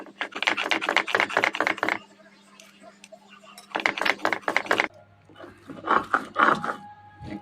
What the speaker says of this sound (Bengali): লাউয়ের যে খোসাগুলো সিদ্ধ করে রেখেছিলাম এখন পাটায় বেটে নিব।